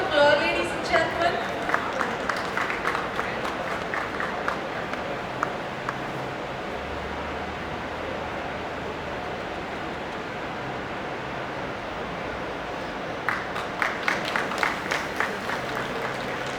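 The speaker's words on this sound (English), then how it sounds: "can we please give them a big round of applause, ladies and gentlemen?" An audience at a film press conference applauds in a burst of clapping that fades into a long steady crowd murmur, then swells again near the end, heard from within the room.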